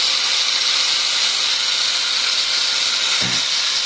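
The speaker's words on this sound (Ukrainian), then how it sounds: "болгарка так також працює" An angle grinder, powered by a LiFePO4 12.8V 360Ah battery, whines with a steady, loud, hissing drone throughout, with one brief low thump near the end.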